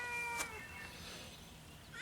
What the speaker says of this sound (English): Got a cat back there like meowing